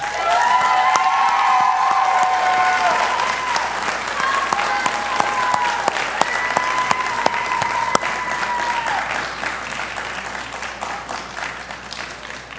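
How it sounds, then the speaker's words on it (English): At a college spring commencement ceremony, a large audience applauds the graduates with long, steady clapping punctuated by cheers and whistles, staying strong for several seconds before gradually easing. "It's only fitting for you to give them a round of applause."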